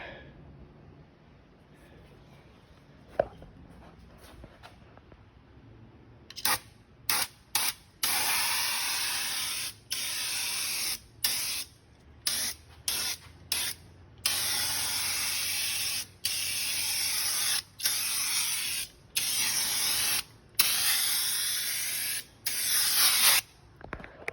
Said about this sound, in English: start laying some base or foundation coats of paint on the frame and the floor pan